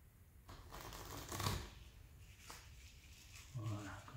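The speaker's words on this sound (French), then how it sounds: "nous allons maintenant utiliser le jeu bleu. Voilà, on va bien entendu le mélanger" A deck of playing cards being shuffled by hand at close range, with repeated riffling bursts of crisp card flutter across a few seconds.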